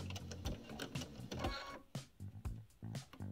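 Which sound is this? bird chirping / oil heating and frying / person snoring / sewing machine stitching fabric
sewing machine stitching fabric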